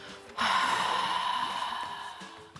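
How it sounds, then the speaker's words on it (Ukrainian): A long, slow breath pushed out through the mouth with a sound during a breathing exercise, starting abruptly and fading gradually over about two seconds. "Повільно вдихаємо носом в живіт надуваємо кульку і видихаємо ротом з звуком"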